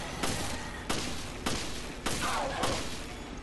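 Gunfire in the video game Resident Evil Revelations: five sharp shots spaced roughly evenly over a few seconds, each with a short decaying tail, with no talking.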